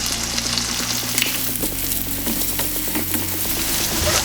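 Chilies and onions hitting a pan of cooked-down chorizo for chorizo and potato gorditas, giving a loud, dense, continuous sizzle with faint crackling and stirring throughout, close and without voices.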